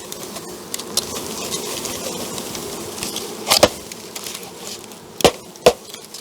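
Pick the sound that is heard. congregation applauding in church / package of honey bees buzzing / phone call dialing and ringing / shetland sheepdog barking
package of honey bees buzzing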